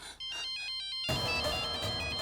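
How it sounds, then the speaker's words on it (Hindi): A phone ringtone plays in a short series of electronic tones, then a loud burst of dense noise cuts in and continues. "नंदिता आंटी को फोन करती हूँ।"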